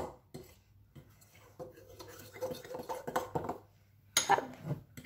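A Nutella and almond mug cake batter is stirred in a mug with a spoon, giving clinking scrapes against the ceramic, with a louder clatter near the end and people talking around it.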